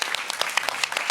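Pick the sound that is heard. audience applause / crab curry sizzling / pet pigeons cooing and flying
audience applause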